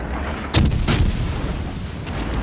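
Cruiser main guns fire in the naval game World of Warships Legends, two heavy booming salvos close together followed by rumbling echoes and faint distant shots.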